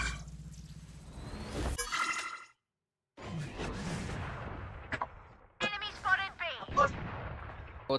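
Gunfire in the tactical shooter Valorant during a live ranked match, loud bursts of shots and impacts cutting in and out, with a brief silent gap, mixed with game effects.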